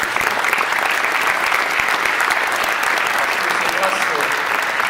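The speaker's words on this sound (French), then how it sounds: "Je crois que nous pouvons les applaudir tout particulièrement." An audience in a hall claps together at a mayor's New Year greetings ceremony in Paris's 15th arrondissement, a loud, dense and even roar of many hands that holds steady for several seconds.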